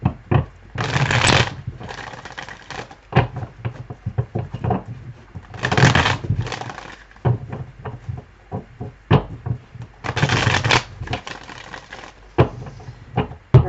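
Tarot cards being shuffled in several bursts of riffling and flapping, with soft taps and knocks between them, close up.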